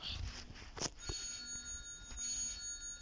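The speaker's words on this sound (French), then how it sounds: "Ah, il y a le téléphone qui sonne." A telephone rings in a video game, a bright electronic ring with a sustained tone, under low game ambience, with no talking.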